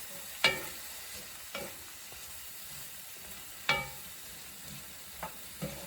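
A spoon stirring seasoned beef with peppers and onions in a hot pan, soft sizzling underneath and a few distinct scraping knocks against the pan at irregular intervals, close and fairly quiet.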